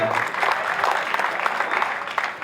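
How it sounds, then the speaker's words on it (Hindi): Strong applause fills a hall during a Teacher's Day award ceremony, a dense and even wash of clapping from a large audience that holds steady and loud throughout. "एक बार अपने लिए जोरदार तालियां बजा दो"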